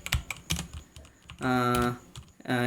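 Rapid typing on a computer keyboard while writing a prompt in Dart code, quick clusters of close, crisp key clicks alternating with someone talking.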